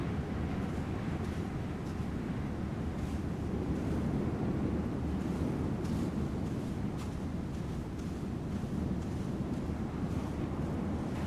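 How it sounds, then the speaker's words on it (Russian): Steady, dense wind noise roars continuously against the microphone, with a broad low rumble that may include surf in the background. "Ветер усилился."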